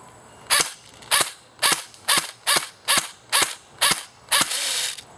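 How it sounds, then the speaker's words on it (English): An emptied airsoft rifle magazine winds up with a mechanical whirr after about 200 rounds, following a run of eight evenly spaced sharp shots and ending in a longer continuous buzzing burst. "that was the magazine spinning up, saying it's empty"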